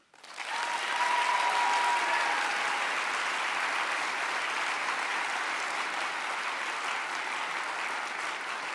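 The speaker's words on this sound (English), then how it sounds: "please round of applause for these folks" Sustained applause from an audience at a baccalaureate ceremony rises quickly and holds as a dense, even roar of many hands clapping for several seconds, loud and without any talk.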